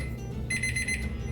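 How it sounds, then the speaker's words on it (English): A drum smoker's temperature alarm goes off while a brisket smokes, a clear electronic beeping tone that sounds for about half a second over a low background hum. "that's the alarm"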